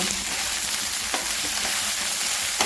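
Potato pieces fry with salt and turmeric in oil, making a loud, dense, continuous sizzle close by, with a faint stir or two under the steady crackle.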